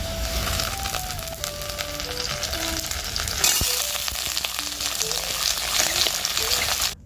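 Mixed vegetables with beans and new red potatoes sizzle and fry in a pan, a steady crackling hiss running throughout alongside a faint melodic tone.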